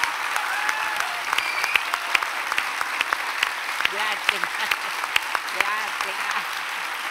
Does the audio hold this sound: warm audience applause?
yes